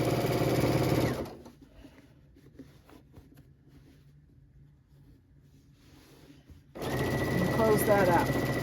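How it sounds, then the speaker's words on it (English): Sewing machine stitching quilt binding: a steady, close motor whir at the start and again at the end, with a quiet stretch in between. "And just keep sewing."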